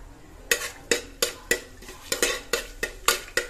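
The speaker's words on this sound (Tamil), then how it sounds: "இதெல்லாம் அப்படியே எண்ணெயில் பொறியிட்டோம்" Whole spices (bay leaf, cloves, cardamom and cinnamon) being tempered in hot frying oil for mutton biryani, with about a dozen evenly spaced metal scrapes and clinks of a spoon stirring in the pan, close and crisp.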